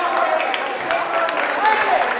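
Crowd noise fills a high school boys basketball gym during a Fairfax versus Hazen game, a steady wash of cheering and chatter with a few scattered claps, holding at an even level throughout.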